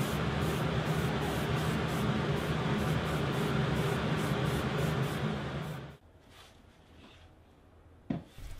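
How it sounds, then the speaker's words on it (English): An aerosol can sprays Hunter Green paint inside a pop-up paint booth, a loud continuous hiss with a slight rhythmic flutter lasting about six seconds before cutting off, followed by near quiet and a single sharp knock. "sprayed a couple coats of Hunter Green spray paint"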